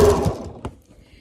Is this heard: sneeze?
no